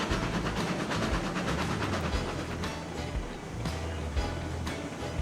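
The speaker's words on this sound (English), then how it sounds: "Our big-ass train has arrived." A large train pulls into a station in a railway-building video game, with a steady loud rumble and rhythmic clickety-clack of wheels over rails, continuous and close throughout.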